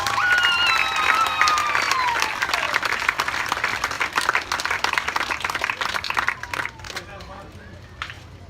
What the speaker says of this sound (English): let's give all 8 teams and all 20 teams and everybody a huge round of applause